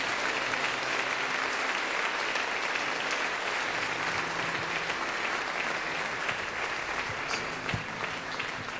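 A church congregation keeps up steady, full applause throughout, dense and even, with a low murmur of voices faintly underneath.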